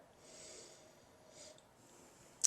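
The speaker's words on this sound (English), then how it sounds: "And then we'll try the sniff." A person sniffing wine from a glass, two drawn-in nasal breaths, close and soft, followed by a brief sharp sound at the end.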